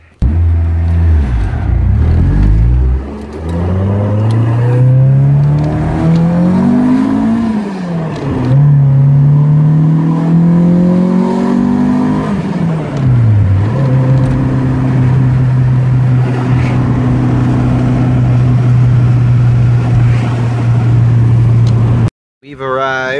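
A bagged Honda Civic drives on the road, its engine loud and close as it revs up through several gears with rising and falling pitch, then holds a steady drone, with a brief cut near the end.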